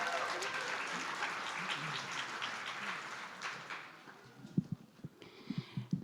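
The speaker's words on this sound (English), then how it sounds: "let's clap it up for the World House Choir" A summit audience applauds the World House Choir with moderate, somewhat thin clapping. It fades partway through as scattered louder claps and handling thumps come through close by.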